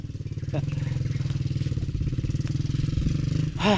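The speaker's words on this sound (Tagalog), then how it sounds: "May motorsiklo doon." A motorcycle engine putters steadily nearby with a pulsing, chugging rhythm, ending in a brief rising whine as it revs.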